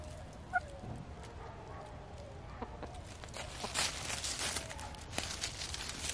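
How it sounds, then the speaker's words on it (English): Chickens cluck faintly in the distance amid soft footstep-like rustling and quiet background noise. "Chickens."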